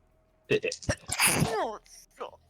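A single loud sneeze bursts out sharply in a quiet room, followed by a short vocal trailing sound, with nearby voices of tabletop game players around it.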